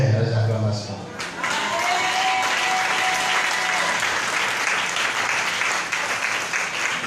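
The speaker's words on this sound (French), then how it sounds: "Les acclamations" Congregation applause and cheering fill a church service, a dense, loud wash of clapping that swells after a brief dip and holds steady, with voices mixed in.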